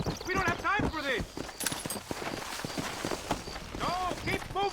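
In the Western video game Red Dead Redemption, horse hooves pound in quick galloping clip-clop beats, up close and loud, while voices call out over the riding.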